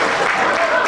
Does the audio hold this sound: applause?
yes